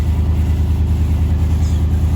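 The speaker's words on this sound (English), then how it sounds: "we got a 1996 Ford Taurus SHO here." A 1996 Ford Taurus SHO engine runs at a steady idle nearby, a loud, even low rumble that holds without revving or speech.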